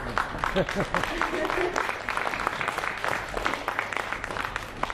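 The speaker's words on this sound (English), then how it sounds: "we need to do another big round of applause" Applause from a theatre audience after a play, a dense, continuous round of clapping from a full house; a voice speaks briefly at the start before the clapping takes over.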